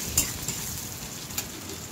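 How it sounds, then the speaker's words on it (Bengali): Garlic and onion frying in oil in a wok, with a steady close sizzle and a few light stirring scrapes over about two seconds. "রসুন আর পেঁয়াজটা ভালো করে ভেজে নিচ্ছি যাতে গন্ধটা চলে যায়।"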